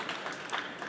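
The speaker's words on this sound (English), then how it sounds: "Lovely round of applause." Brief burst of audience applause greeting panelists at a CES 2023 tech policy session, a dense patter of many hands at moderate level lasting under a second.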